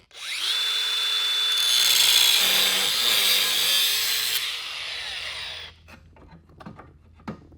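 A power tool cuts through a seized steel axle on an old mini bike that was dug up from the ground, a loud, steady, harsh grinding whine for about five seconds. It is followed by scattered clanks and knocks.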